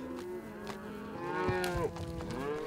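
Cattle on a cattle drive, pushed along on foot, low drawn-out moos from several animals overlapping at fairly close range, one call sliding in pitch near the end, with no voices present.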